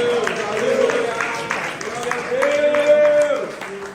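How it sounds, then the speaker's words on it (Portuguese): A church congregation claps during a Portuguese-language Sunday service, rhythmic clapping spread across the room beneath loud, sustained voices singing or calling out. "Você só pode assentar glorificando e batendo palmas ao Senhor."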